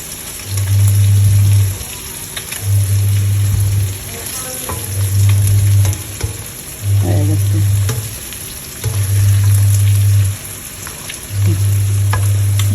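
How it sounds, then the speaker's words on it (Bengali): A fish frying in a pan just after being flipped, a loud, close, continuous sizzle with a recurring low hum swelling and fading at a steady pace. "মাছটা উল্টায় দিতেছি ভাত ভাজার মতো করে"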